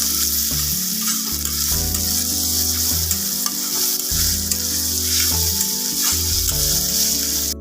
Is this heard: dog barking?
no